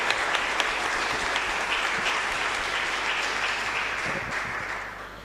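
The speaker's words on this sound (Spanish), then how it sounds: "un fuerte aplauso para darle este agradecimiento" A Sunday Mass congregation breaks into loud, sustained applause, a dense wash of clapping that holds steady for several seconds before easing slightly at the end.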